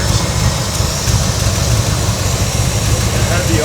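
A junkyard truck engine runs after a makeshift vacuum hose fix, a loud, rough, low idle droning steadily while people talk nearby.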